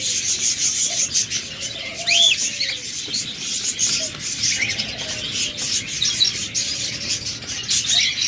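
A pair of large budgerigars or cockatiels in a cage give scattered chirps and short calls, close by, over a constant rubbing, scratching noise.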